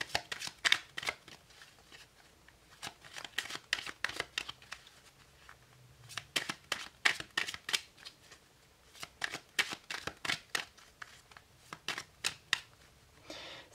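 Tarot cards from a Merry Christmas deck riffled and shuffled in quick crisp bursts, a flurry at the start and two more runs later, close and fairly quiet with no talk.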